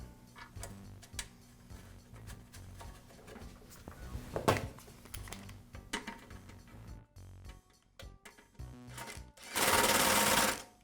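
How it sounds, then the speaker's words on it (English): A screw is driven to secure the plastic filler neck to the blower housing of a Briggs & Stratton small engine during a recoil starter repair, heard as close irregular clicks, ticks and scraping handling noises, ending in a loud burst of broadband hiss. "I'll realign the filler neck with the housing and secure it with the screw."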